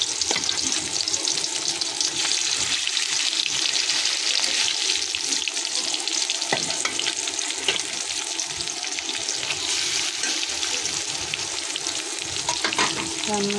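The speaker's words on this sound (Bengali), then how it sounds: "পোয়া মাছ ভুনা করতেছি" Poa fish cooking as a bhuna in a pan makes a continuous, fairly loud frying sizzle with watery crackle and a few sharper stirring scrapes, close up and without talk.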